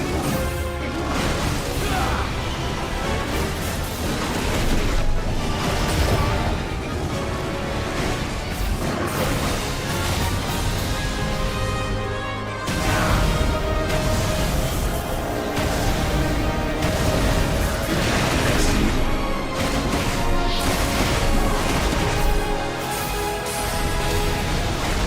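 A supernova blast in the video game Final Fantasy XVI roars on continuously for about twenty-five seconds, a loud dense wall of crashing, whooshing destruction with repeated heavy impacts and no clear pause.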